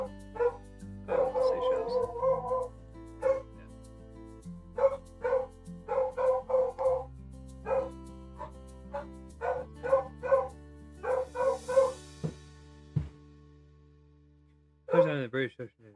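Dogs yip and bark in quick bursts and short clusters, fairly faint and somewhat distant, spread across a stretch of room sound with a low steady hum and a sharper rising yelp near the end.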